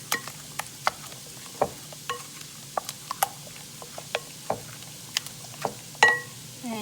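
Meatloaf ingredients with Worcestershire sauce are mixed by hand, giving soft irregular clicks and wet taps spread over several seconds, with a faint sizzle of cooking onions and peppers in the background.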